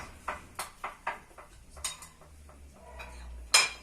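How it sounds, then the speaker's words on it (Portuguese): Utensil scraping and knocking against a bowl while ingredients are mixed for a microwave pizza, a run of separate clinks about every half second, close and moderately quiet, ending on a sharper clink. "Misturando."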